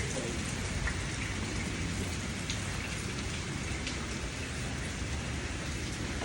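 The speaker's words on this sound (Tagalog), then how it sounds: "Pwede palang kumuha rito ng tubig ulan" Heavy rain falling steadily on a construction site in Antipolo City, a dense, constant wash of drops close by with no pauses, while faint voices sit under it.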